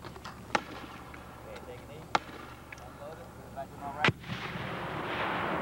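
Weapons fire on an Army basic training range: three sharp, loud gunshots spaced a second or two apart, with range commands spoken between them and a rising burst of noise at the end.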